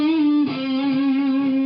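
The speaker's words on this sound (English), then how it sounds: "And a more distorted distortion pedal." Electric guitar through a heavier distortion pedal sustains a thick, buzzing note close and loud, with a brief re-pick midway and an unbroken ringing tone throughout.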